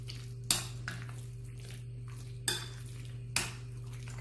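Spiced chicken, olive oil and lemon juice being stirred together in a bowl, with a few distinct clinks of a utensil against the bowl over a steady background hum.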